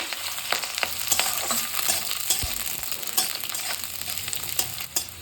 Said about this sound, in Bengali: শুরুতেই আমি সবজিগুলোকে সব একটু সাঁতলে নেব দিয়ে দিলাম ফুলকপি